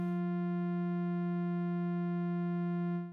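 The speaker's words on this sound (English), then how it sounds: "you can hear here like the oscillator's a little bit out of whack with the pitch" A Soundpaint synth oscillator holds a steady, buzzy sustained tone slightly off pitch, loud and alone for about three seconds before fading at the end.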